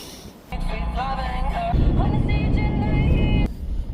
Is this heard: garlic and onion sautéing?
no